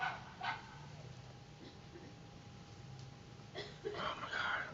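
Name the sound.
neighbor's dog barking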